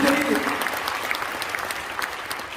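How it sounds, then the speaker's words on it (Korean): Congregation applauding inside a large church sanctuary during an Easter union worship service, a dense steady wash of clapping that fades slightly, with a brief voice at the start. "여러분 우리 사랑교회 박수 한번 쳐주면 좋겠습니다."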